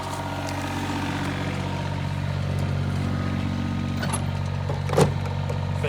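An excavator's diesel engine drones steadily at idle while the auger attachment is rotated, with a low constant rumble and a brief clank near the end.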